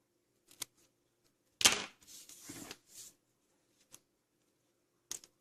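A plastic part of a Fujimi 1/24 McLaren F1 GTR Long Tail model kit being cut from the sprue, heard as a few sharp isolated clicks and short snipping rasps in quiet surroundings.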